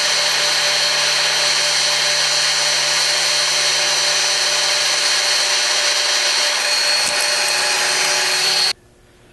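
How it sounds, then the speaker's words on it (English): A loud, steady drill on a lathe whines continuously as it bores about two inches deep into metal for about nine seconds, then cuts off abruptly. "we're just going to basically drill the bottom out and drill down in there about 2 inches deep"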